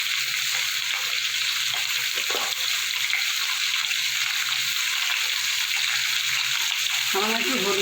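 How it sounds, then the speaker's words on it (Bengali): Potatoes seasoned with salt and turmeric fry in a pan for a jhinge-aloo curry, a steady close sizzle running throughout with a brief stirring scrape near the end. "সামান্য একটু হলুদ, দিয়ে আলুটা ভালো করে লাল করে ভেজে নেব।"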